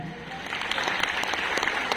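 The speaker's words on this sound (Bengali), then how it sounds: "এখানে দেবাশিসের জন্য একটা হাততালি দিন" A Modicare meeting crowd in Bongaon applauds for Debashis, dense steady clapping filling the room at moderate loudness throughout, with no speech over it.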